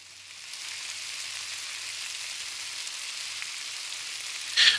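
Food fries in the Cooking Simulator video game with a steady, even sizzle that holds close and constant, ending in a short brighter click.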